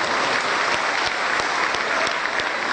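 Steady, dense applause fills a hall at a large gathering of Quran school teachers in the Solo region of Indonesia, loud and even from start to finish with no break.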